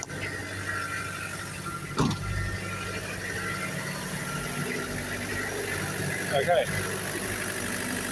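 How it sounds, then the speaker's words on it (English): A diesel car engine runs at high idle, a steady, even drone with a constant hum throughout, close by, and a brief clunk early on; a person says a single word over it. "This is the diesel, so I've just turned up the high idle down here."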